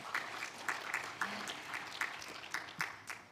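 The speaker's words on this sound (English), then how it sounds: "So, you may welcome to give applause to this project." Audience applause at a G20 Development Working Group meeting: a room of people clapping steadily, the claps sharp and fairly close, sustained for the whole stretch without talk.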